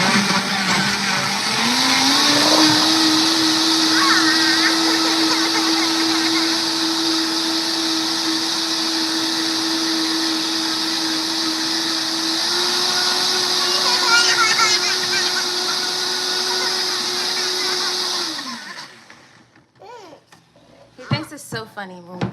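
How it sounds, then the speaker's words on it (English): A blender runs as it blends a smoothie, giving a steady, loud motor whir with a whining drone that holds for about seventeen seconds, steps up slightly in pitch partway through, then spins down and stops. "so we're gonna blend this up."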